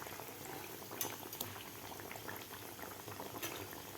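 Onion kachori deep-frying in hot oil, a steady dense bubbling sizzle running throughout with a few sharper crackles and pops; no talking.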